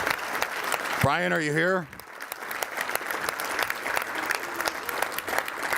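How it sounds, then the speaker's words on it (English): Audience applause at an awards luncheon for a veterans chamber of commerce, a steady broadband clapping across the room throughout, with a man briefly calling out over it near the start. "Give him a round of applause."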